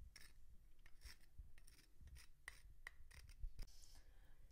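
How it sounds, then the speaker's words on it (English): Whole nutmeg is grated on a mini microplane, giving soft, irregular scraping strokes close by. They are faint, quick and uneven in rhythm, and no one talks over them. "I'm using this mini microplane to grate the nutmeg."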